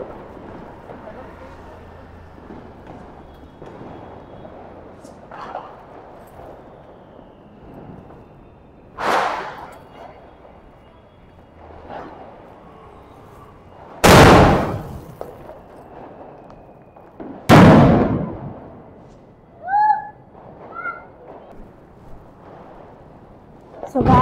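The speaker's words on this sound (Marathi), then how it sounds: "सो गाईज फटाके वाजून झालेले आहेत. अजूनही चालूच आहे." Diwali firecrackers burst outdoors during Laxmipujan, several loud sharp bangs spaced a few seconds apart over quieter background noise, with a brief whistling crackle after one blast.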